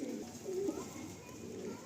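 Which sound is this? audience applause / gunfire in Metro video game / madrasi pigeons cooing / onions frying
madrasi pigeons cooing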